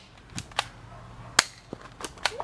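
Airsoft guns firing at targets on a shooting course, about six sharp snapping shots spaced irregularly, fairly close and crisp over a quiet background.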